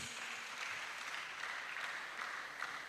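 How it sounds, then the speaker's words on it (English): Audience applause at a secondary school gathering in Ondo, a steady wash of many hands clapping for a recognised grammar school, filling the whole moment at even strength without a break. "Let's clap for them, please."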